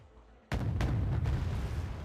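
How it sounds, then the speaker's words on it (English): In Wargame: Airland Battle, tanks including Abrams and T-80s open fire with a sudden heavy boom, followed by rumbling reverberation and a couple more muffled blasts. "They're opening fire on these T-80s"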